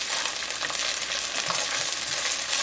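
Ginger and garlic paste stirred into hot oil in a frying pan: a dense, even sizzle with soft scraping from the stirring, close and continuous.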